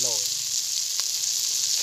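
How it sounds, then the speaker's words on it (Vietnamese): Snails stir-fried with lemongrass and chili sizzle loudly in a pot, a continuous bright hiss of frying with a faint clink of stirring partway through. "xào xào hết này"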